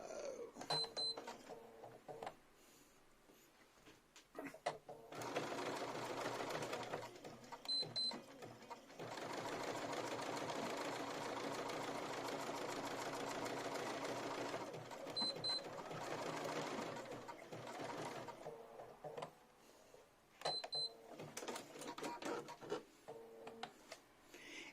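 Electronic sewing machine stitching lace motifs, running in long steady bursts of even whirring separated by short pauses and small clicks, close and fairly loud.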